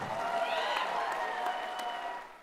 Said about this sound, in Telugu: మీరు గట్టిగా ఒకసారి చప్పట్లు కొట్టాల్సిందే